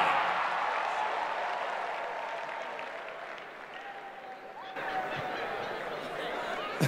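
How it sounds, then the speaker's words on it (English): An audience at a comedy show in a large venue claps steadily for a comedian, a dense wash of applause that dips slightly midway and swells again, with a faint whistle and cheering mixed in. "A round of applause for I Go"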